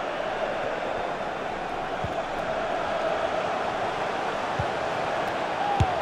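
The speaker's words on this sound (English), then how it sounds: "the ref will hear the crowd all right." A stadium crowd jeers a referee during a FIFA 21 video game match between Manchester United and Leeds United in the FA Cup, a steady distant roar of whistles and boos with a few sharp thuds.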